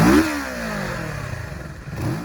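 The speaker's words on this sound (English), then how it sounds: "Kawasaki 649 liquid cooled parallel twin." A Kawasaki 649 liquid-cooled parallel-twin motorcycle engine revs once sharply at the start, then settles into a steady mid-pitched idle before a second short rise in revs near the end.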